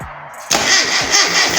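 A Classic Mini project car's starter engages suddenly after a brief quiet moment and cranks the engine with a loud, rhythmic churning turnover, close up, without firing into a clear idle.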